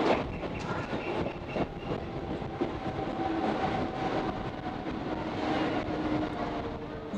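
A Howrah to Tarakeswar local train on the Arambagh route runs along the rails, with a steady, loud rolling rumble and rattling wheel noise throughout and no talk.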